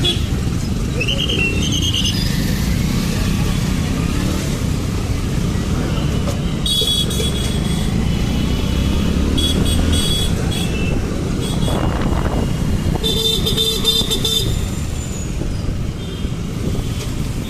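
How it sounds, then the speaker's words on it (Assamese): A road traffic jam near Maligaon in Guwahati, Assam, with a steady rumble of engines and wind buffeting the microphone, broken by several bursts of car horns honking in the middle and later part. "ইমান ট্ৰাফিক"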